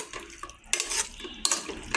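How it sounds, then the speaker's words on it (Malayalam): A spoon scraping and clattering in a pot while chicken is stirred into curry paste for an oil-free Kerala chicken curry, two bursts of clinking close up with wet squelching between, no talk. "നന്നായിട്ട് ഇളക്കി കൊടുക്കണം"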